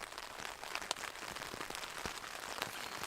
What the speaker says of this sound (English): There's something nice about listening to it rain